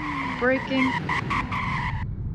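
A car in the Greenville driving game brakes with a short, loud tire squeal that holds for about two seconds and then cuts off abruptly, with a steady engine drone underneath.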